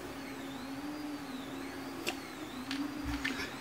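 A large DIY 3D printer in motion, its stepper motors whining in a steady hum with rising and falling pitch sweeps as the axes move, plus a few sharp clicks and knocks.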